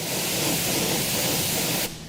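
A detailing product sprayed onto a car wheel gives a steady close hiss lasting nearly two seconds, then stops abruptly and leaves a faint tail.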